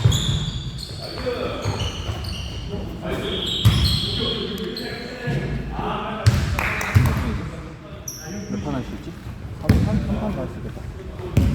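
Repeated thumps of a basketball bouncing on a hard court, irregular and close, with sneaker squeaks and people talking throughout.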